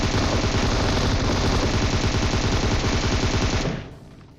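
An M249 light machine gun fires in PUBG Mobile, a loud, sustained burst of rapid shots in a tight, even rhythm that stops abruptly near the end and leaves a brief fading tail.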